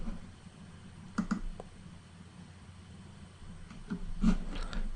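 A computer mouse clicks on a download link, a few soft close clicks spaced apart over a quiet background hum.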